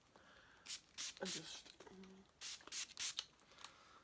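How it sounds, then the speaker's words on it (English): A L'Oreal heat protecting spray is spritzed onto hair in several short hissing bursts, close and quiet, with someone speaking briefly between them. "I'm going to start off with the bit of heat protecting spray."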